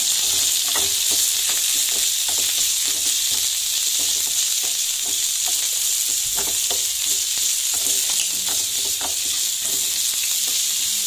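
Chopped shallots and green chillies fry with mustard seeds in hot oil, a dense, steady sizzle up close with frequent small crackles and pops over eleven seconds.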